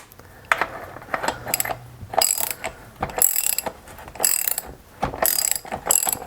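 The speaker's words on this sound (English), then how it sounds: "And now I'm just going to put a socket on it." Ratchet socket wrench clicking in short bursts as it turns a bar stud on a Stihl chainsaw, the rapid pawl ticks close and crisp with brief pauses between strokes.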